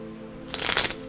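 A deck of oracle cards is riffled once in a quick, close burst of papery flutter lasting about half a second against a quiet room.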